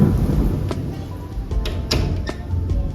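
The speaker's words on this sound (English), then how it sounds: "Dude, it's crazy raining right now." Heavy rain pours steadily in Antigua, Guatemala, with several sharp cracks of thunder breaking through the dense, constant hiss; no voices.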